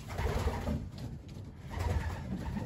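Racing pigeons coo steadily in a loft, soft throaty calls overlapping one another at close range with faint rustling and no talk.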